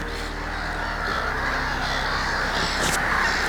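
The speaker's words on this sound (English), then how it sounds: "there's an absolute multitude of black-headed gulls. If I be quiet for a second, you can probably hear the noise that they're making" Dense flock of about 500 black-headed gulls calling at a Martin Mere wetland hide, with a few mallards mixed in; a steady, close chorus of harsh overlapping cries over constant low rumble, with no talking.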